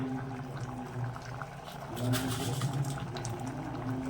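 Dal with ponnaganti greens boiling in a pot, a soft, steady bubbling and simmering heard close but faint, with a slightly busier burst of bubbling midway.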